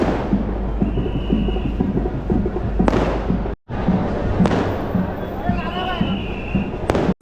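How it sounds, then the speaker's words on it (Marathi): Strings of firecrackers go off along a palkhi procession route, a few sharp bangs cracking through a steady din of crowd voices and chatter. "ठिकठिकाणी पालखीच्या स्वागतासाठी फटाक्यांच्या माळा पेटवण्यात येत होत्या."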